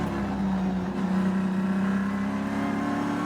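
Onboard a Trans Am Series Porsche racing at Sonoma, a loud, steady engine drone holds a constant pitch with only slight wavering throughout.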